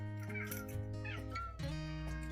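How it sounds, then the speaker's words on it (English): A pet cat meowing in a kitchen, a few drawn-out, rising and falling cries close by, moderately loud and alone without talk. "Every time he hears me click something or something opens, he meows"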